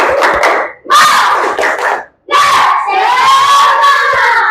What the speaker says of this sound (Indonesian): kita beri dulu tepuk semangat.